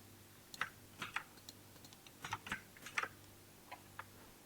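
Keys tapped on a computer keyboard while working in Python code, a run of quick, irregular clicks in small bursts, close and fairly quiet, with no talking.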